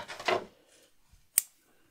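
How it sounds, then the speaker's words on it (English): Scissors snip through crochet yarn while an amigurumi octopus is being made: a soft rustle of handling, then one crisp, close cut. "On this panel, we're going to cut the yarn."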